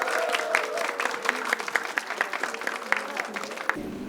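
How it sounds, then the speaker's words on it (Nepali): An audience at a graduation ceremony in Pokhara applauds, a dense run of claps from a crowd in a hall that continues steadily before stopping abruptly. "कृपया जोरदार ताली बजाइदिनु होला।"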